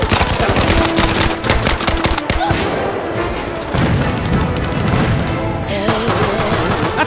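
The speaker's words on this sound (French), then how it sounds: "Attention, c'est un rafale explosif!" A loud, continuous burst of explosive gunfire rattles on with rapid repeated reports, heavy booms and crashes over several seconds, filling the whole stretch almost without pause.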